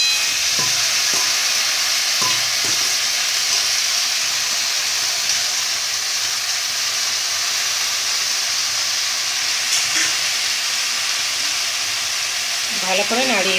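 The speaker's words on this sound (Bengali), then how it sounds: "এবার কুমড়ো শাকটা দিয়ে দেবো ভাজা সবজিগুলোর মধ্যে" Pumpkin greens are added to vegetables already frying in a pan and stirred, giving a loud, continuous sizzle and hiss with occasional scraping, while a voice speaks briefly near the end.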